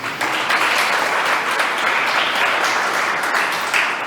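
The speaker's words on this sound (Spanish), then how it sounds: "Dale un aplauso a Jesús." A church congregation claps for Jesus during a Spanish-language sermon, dense continuous applause from many people, loud and close, filling the whole stretch without speech.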